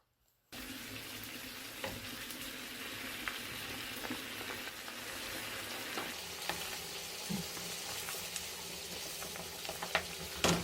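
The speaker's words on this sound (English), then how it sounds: "I'm going to give this a mix and bring it to a boil for about 3 to 5 minutes" Chicken curry with Greek yogurt bubbling and sizzling in a pan as it is stirred, a steady, close frying hiss with occasional soft scrapes and pops throughout, no voices.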